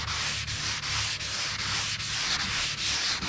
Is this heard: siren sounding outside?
no